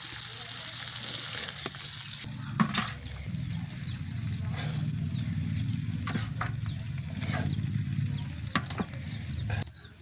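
Fish pieces coated in masala fry in a pan, a continuous close sizzle and crackle with bubbling, punctuated by occasional stirring clatter and a few sharp knocks.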